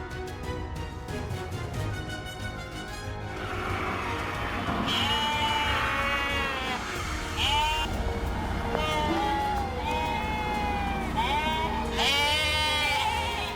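A crowd of sheep bleating aboard a livestock transport ship, many overlapping wavering calls, some near and some farther off, sounding continuously over a low engine rumble.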